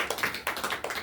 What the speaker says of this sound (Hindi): आइए ताली मारेंगे, हालेलुया